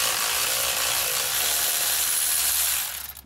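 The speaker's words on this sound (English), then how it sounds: "Should just be able to use the electric ratchet to get them off." An electric ratchet whirs continuously while backing bolts out of a BMW E36 during engine removal, a loud close buzzing grind that runs steadily for about three seconds, then cuts off.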